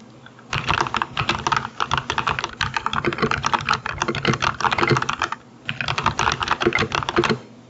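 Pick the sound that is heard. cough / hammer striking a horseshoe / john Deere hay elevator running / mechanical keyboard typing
mechanical keyboard typing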